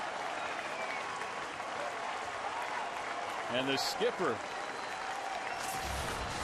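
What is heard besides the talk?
baseball stadium crowd cheering and applauding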